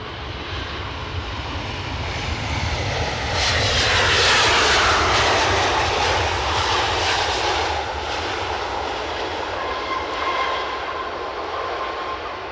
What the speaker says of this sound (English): There is our brand new, possibly test flight, Turkish Airways A321 Neo